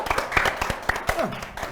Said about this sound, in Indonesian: beri tepuk tangan dulu untuk tim